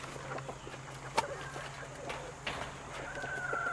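Farm chickens, including hens, cluck and call in short scattered bursts, with a steady low hum underneath and a faint whistling tone near the end.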